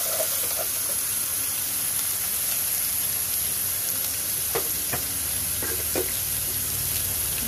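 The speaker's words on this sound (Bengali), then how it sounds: "এখন ভালো করে মশলাগুলো ভালো করে ভেজে নেব।" Spices fry in a hot pan with a constant loud sizzle, and a few scattered scrapes and knocks come from the stirring; nobody speaks.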